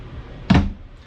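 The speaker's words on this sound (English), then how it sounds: "A shower door that you want to make sure is snapped closed for travel." RV shower door in a travel trailer bathroom snapped shut, a single sharp plastic clack close by against quiet room hiss.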